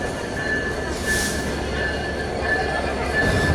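Train at Kamalapur railway station in Dhaka, a continuous rumble of rolling railcars with a thin high wheel squeal running throughout, close and fairly loud with busy station ambience.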